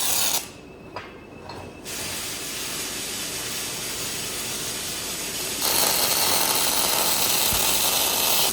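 Welding on brackets atop a digger bucket in a factory welding bay gives a steady, loud hiss and crackle that runs throughout, with a brief quieter start and a harsher, brighter stretch near the end.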